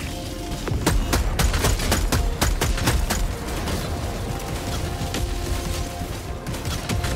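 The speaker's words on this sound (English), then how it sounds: "Mortar turret, go." Mortar turret deployed in Helldivers 2 fires a rapid string of sharp, loud shots over a dense, rumbling battle bed, the reports coming in irregular clusters for several seconds.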